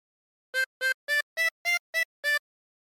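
A harmonica plays a short phrase of Yankee Doodle: seven clean, reedy notes in an even rhythm, close and clear with silence around them and no talk.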